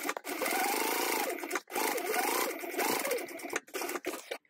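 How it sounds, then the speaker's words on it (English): Sewing machine top stitching along a tote bag, a close, steady whirring hum in three long runs broken by brief stops, no talk. "I'm going to top stitch along the bottom"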